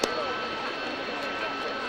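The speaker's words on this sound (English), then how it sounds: "the next aircraft to display is this, the Harrier GR7, a Royal Air Force example, therefore, but about to take the ski jump" A Royal Air Force Harrier GR7 jet roars steadily at an airshow as it starts its ski-jump takeoff, a loud continuous broadband engine rush with a high whine, heard from a distance with faint voices underneath.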